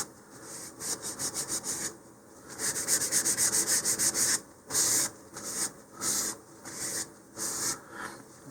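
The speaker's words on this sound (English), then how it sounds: "just remove any of the sanding dust from this" A cloth soaked in alcohol rubs sanding dust off a model rocket part in rhythmic back-and-forth strokes, a series of close, moderately loud scrubbing passes separated by short pauses.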